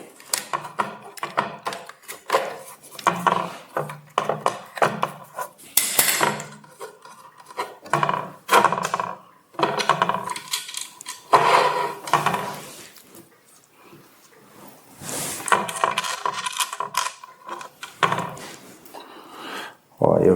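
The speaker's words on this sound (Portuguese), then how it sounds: "Vou desrosquear aqui um pouquinho só para entrar o parafuso" Rasping, scraping turns of a screw being backed out on the support structure of a car-shaped cake, coming in uneven bursts with short pauses over roughly twenty seconds, close and moderately loud.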